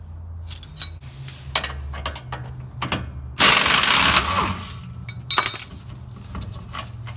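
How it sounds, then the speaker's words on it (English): A 21mm socket and open-end wrench work the lower rear shock absorber bolt loose on a 2014-2018 Silverado/Sierra. Scattered metallic clicks and clanks are broken by a loud rattling burst midway and a shorter one near the end. "take our 21mm socket and an open-end 21mm wrench and remove this lower bolt"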